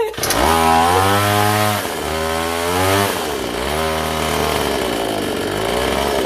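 A two-stroke engine running on a 1000:1 fuel mix refuses to idle. It surges up and down in about four repeated revving swells, loud and close, like a chainsaw, with no talking.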